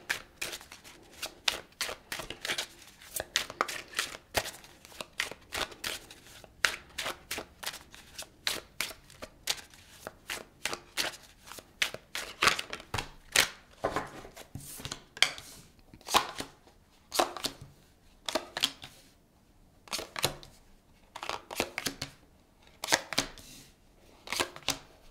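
Tarot cards are shuffled and pulled close up in quick, crisp riffles and slaps, coming in irregular bursts with brief pauses between them. No voices are heard.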